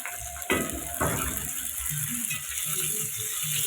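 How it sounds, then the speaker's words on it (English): Omena sardines dry frying in a pan, giving a steady crackling sizzle with soft scraping clicks and a couple of sharper pops near the start, fairly close and with no talking. "So I'll just let them cook"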